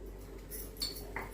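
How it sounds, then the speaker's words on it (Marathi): A metal spoon clinks against a pot as salt is added to boiling water, giving a few light, close metallic taps over a low background hiss. "त्याच्यामध्ये साधारण हा चमचावरून मीठ टाकणार आहे"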